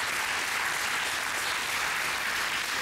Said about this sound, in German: Zu Recht verdient er diesen Applaus.